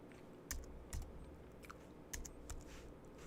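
Someone typing on a computer keyboard, making sparse, uneven key clicks with a few louder taps over a quiet background and no speech.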